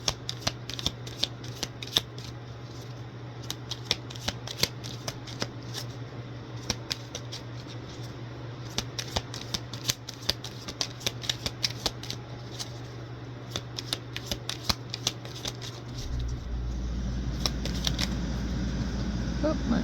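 A deck of starseed oracle cards being shuffled by hand, many quick riffling card clicks in a steady stream over a low constant hum, close by, ending in a louder rushing noise near the end.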